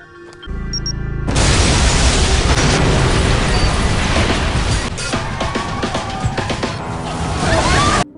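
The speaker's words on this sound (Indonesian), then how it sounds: "Nine langsung meledakkan kantor kepolisian tersebut" A police office blown up by a bomb in the anime Zankyou no Terror: a sudden massive blast that swells into a long, loud roaring rumble of fire and debris, filling several seconds before cutting off abruptly.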